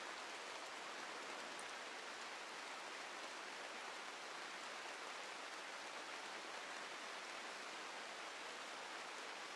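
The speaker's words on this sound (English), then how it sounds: "This rain isn't helping you either." Steady rain falls in the RimWorld video game during freezing weather, a constant broadband hiss with no breaks or separate drops, even and moderately loud across the whole stretch with no voices.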